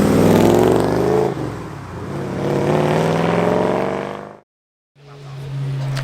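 A Triumph TR4 road rally car with twin Weber carburettors and open intakes revs hard at a classic car meet, loud rising and falling engine roar that cuts off abruptly, then resumes at a steady idle.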